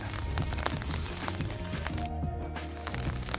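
Rain patters steadily on an umbrella overhead, a dense close tapping under a low rumbling background.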